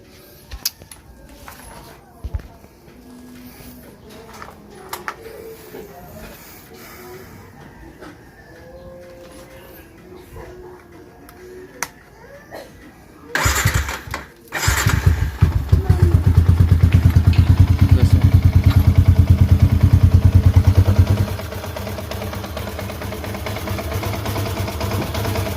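A Sniper 150i motorcycle engine, fitted with a new cable and auto tensioner, starts at close range after quiet handling and clatter, then settles into a loud, steady idle that drops slightly near the end.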